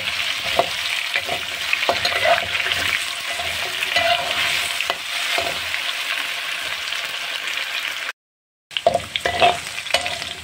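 Potatoes frying in a pan, a loud continuous sizzle up close with stirring clatter throughout and a brief silent gap near the end, no talking.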